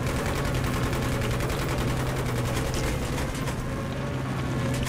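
Dense, continuous gunfire from the video game Battlefield 3, with rapid machine-gun bursts and layered shots filling the whole stretch at steady loudness and no talking.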